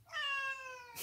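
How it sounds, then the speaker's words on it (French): A young female cat gives a single long, drawn-out meow, clear and close, alone without any talk. "est-ce que tu veux bien arrêter de miauler?"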